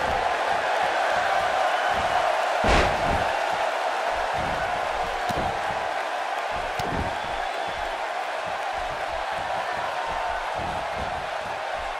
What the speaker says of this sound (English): you can't tell me this Portland crowd isn't fired up